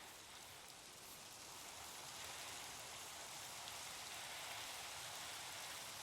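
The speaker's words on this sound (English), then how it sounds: "hopefully the rain will go away." Rain falls steadily in Minecraft, a soft, even wash of hiss that swells slightly partway through and carries on alone without voices.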